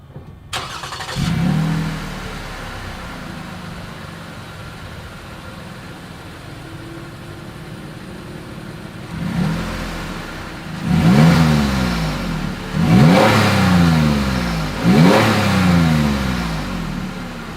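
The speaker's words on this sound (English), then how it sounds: "As always, here is that exhaust clip." A 2020 Lexus RX 350's exhaust, heard close up: the engine starts and settles into a steady idle, then rises into several sharp revs in quick succession.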